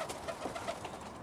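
A roller pigeon gives soft, low coos at close range in a pigeon loft, a few quiet notes over faint background hiss.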